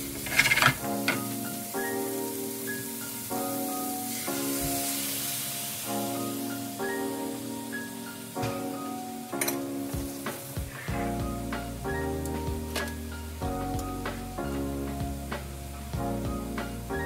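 Vegetables tossed with sauce mix sizzle steadily in a hot pan for a vegetarian egg roll filling, with repeated stirring scrapes and clatters rising over the frying hiss and no talking.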